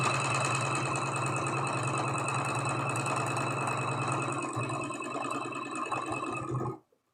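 A sewing machine stitching quilt pieces together runs in one loud, steady mechanical whir with a rapid regular needle rhythm, then stops abruptly near the end.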